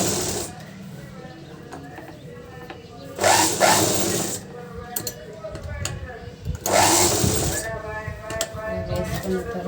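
A sewing machine stitches a dress neck in canvas in steady whirring runs. Two louder bursts stand out, and a person talks over the machine throughout.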